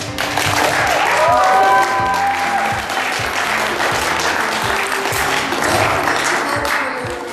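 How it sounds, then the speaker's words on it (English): A gospel talent-show audience gives the judges a long round of applause, a loud, continuous clatter of many hands with some whoops and background music underneath. "a big round of applause for our judges"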